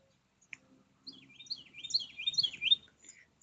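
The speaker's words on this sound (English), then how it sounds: "There's a bird, there's all kind of birds and things here." Small birds chirp and twitter in short bursts, fairly faint, with a quiet outdoor background at Cove Lake State Park, Tennessee, and no voices.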